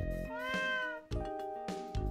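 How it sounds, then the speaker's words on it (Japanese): A cat meows from inside a huge antique pot in a PSP mystery adventure game, three drawn-out, clear meows in close succession, loud and alone with no talk over them. "バカでかい壺の中から猫の声がした。"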